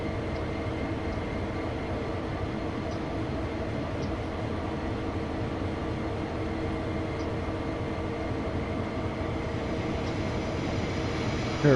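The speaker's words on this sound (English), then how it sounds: "Oh boy, that's a long freight train." A long freight train in a train simulator game rumbles past continuously, a steady low clatter and drone of rolling wagons that holds even for the whole stretch.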